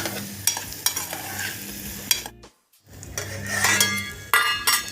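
A ground masala of cumin, coconut, garlic, coriander and green chili sautéing in a pan: constant sizzle with sharp spatula scrapes and clinks against the metal, broken by a brief silence midway.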